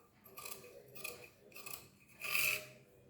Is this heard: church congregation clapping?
no